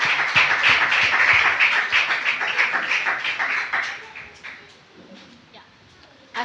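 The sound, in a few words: congregation applauding as an offering to the Lord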